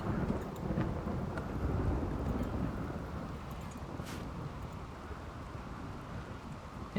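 Thunder rumbles through steady rain in a video game, a broad continuous roar with a brief sharper crack midway, loud and unbroken for several seconds.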